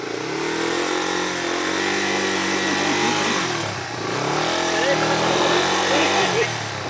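A trail motorcycle stuck in a ditch on a dirt trail revs hard, its engine pitch rising, dipping and climbing again at close range while voices talk over it.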